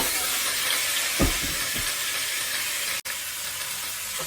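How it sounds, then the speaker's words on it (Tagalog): Chicken sizzles in a hot pan with ginger, a constant frying hiss, broken by a couple of brief scraping stirs and a short clunk. "Isahin lang natin maigi yung manok, yung parang prito-prito na para mas masarap."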